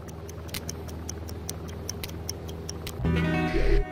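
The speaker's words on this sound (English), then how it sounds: "Oh, the old ticking bomb." A ticking bomb in the video game I Expect You To Die gives sharp, evenly spaced ticks about four per second, then a louder rumbling, whooshing game sound swells in near the end.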